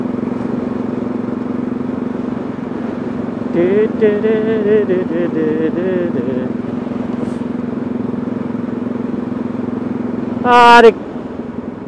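Steady motorcycle engine drone with wind rush while riding, continuous and close throughout, with a voice speaking and exclaiming over it and a brief louder burst near the end.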